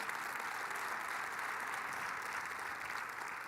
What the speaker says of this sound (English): Please again give Rosetta and Adele and Rich a big, big round of applause